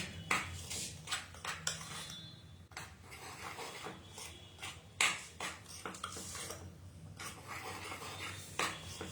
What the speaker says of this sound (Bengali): এবারে এই শুকনো ইনগ্রেডিয়েন্টস গুলো মেখে নিচ্ছি, মানে গুঁড়োগুলো সব একসাথে ভালো করে মিশিয়ে নিচ্ছি